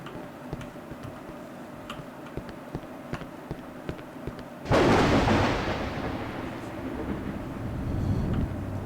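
Thunder in the horror video game Cry of Fear: a steady faint ticking gives way to a sudden loud crack that rolls into a long, slowly fading rumble, heard alone with no voices.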